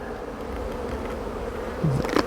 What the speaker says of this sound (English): See these bees?